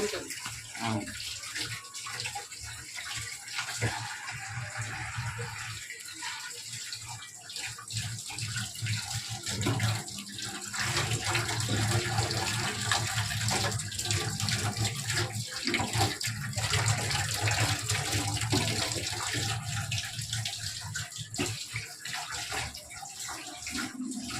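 Water runs steadily from a tap into a basin as freshly cut vegetables from a farmers' market are washed and left to soak, a continuous splashing rush lasting throughout with faint talk now and then.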